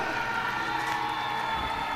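A crowd cheers and applauds at the podium ceremony for round 5 of the 2019 British Drift Championship, a steady dense roar of voices and clapping that holds for the whole moment.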